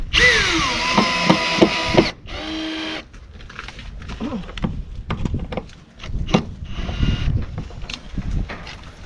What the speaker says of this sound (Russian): Поправили панель и начинаем закручивать.